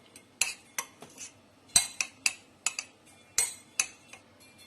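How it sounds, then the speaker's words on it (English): A metal spoon mixes keto bun ingredients in a bowl, a run of about a dozen crisp clinks and scrapes against the bowl in an uneven rhythm, close and clear with no talking. "Just mix it well and keep it aside."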